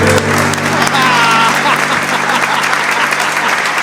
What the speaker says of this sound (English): Get ready with that applause sound effect